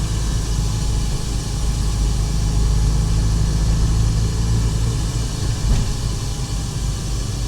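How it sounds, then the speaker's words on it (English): A Porsche Boxster with a swapped engine drives along, its engine giving a steady low drone under broad road and wind hiss, with no talking. "That was the first drive of my Porsche Boxster after I swapped the engine."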